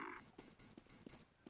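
Bomb being planted in Counter-Strike: Global Offensive: four evenly spaced, high electronic beeps in quick succession, close and clear, with a soft thump under each beep.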